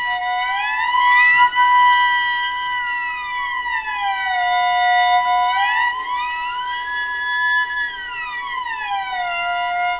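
A violin slides smoothly up and down in pitch, repeated wailing glissandi that mimic a siren, sustained and clear with no talking.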